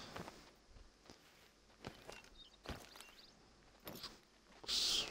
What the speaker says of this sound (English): I am hearing some footsteps.